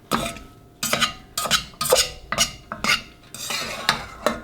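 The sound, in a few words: fluffing cooked quinoa with a fork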